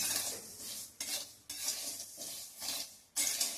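Garden cress seeds dry roasting in a pan, stirred in about five rhythmic scraping strokes that swell and fade with a light sizzle and soft metal contact, quiet and close, with no voices.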